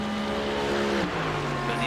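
A Mercedes 6.3 litre V8 GT3 race car in the iRacing sim at Le Mans, its engine droning loud and steady with a falling pitch near the end, over broadcast commentary.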